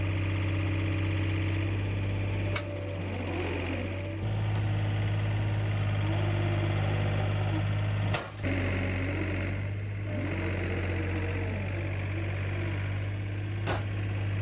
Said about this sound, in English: We bring the skid loader